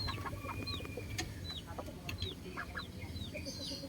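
Fighting cocks from a neighbour's flock cluck in short, repeated calls, moderately near, over a steady low rumble of background noise, with no one talking.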